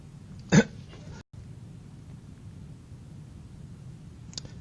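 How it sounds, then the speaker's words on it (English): A single short cough, sharp and close, followed by a long stretch of quiet room hiss and a faint small noise near the end. "sorry, still coughing."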